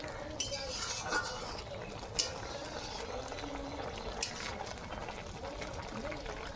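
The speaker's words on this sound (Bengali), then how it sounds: "এখন এটাকে আমি একটু নাড়াচাড়া দিয়ে নেব।" Cooked greens are stirred in a pan, with soft bubbling and a few metallic clinks of a utensil against the pan, occasional sharper taps standing out over a gentle simmer.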